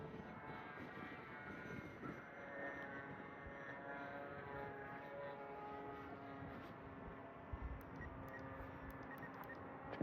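RC tilt-wing 3D plane flying at full throttle, a steady droning motor and propeller whine held for the whole stretch, moderately distant and fairly quiet, with no talk over it.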